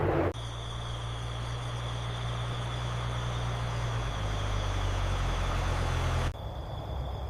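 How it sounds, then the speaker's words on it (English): Aircraft engines droning in the night sky above a road in Vietnam in 1968, a steady, distant hum with a low tonal rumble that holds for several seconds and then cuts off, with no voices. "You hear that? Engines."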